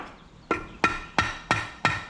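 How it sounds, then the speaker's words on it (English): Five sharp, heavy mallet whacks on the crankshaft of a Kawasaki KX250F engine, evenly spaced and close, each strike ringing briefly before the next. "Let's see if I can give it a couple of whacks with the mallet and see if it'll come out."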